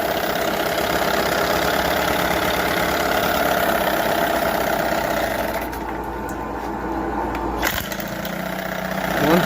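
A 1978 Johnson 6 hp two-cylinder outboard motor idles steadily at close range, a continuous low mechanical drone that softens briefly partway through, with a sharp knock near the end.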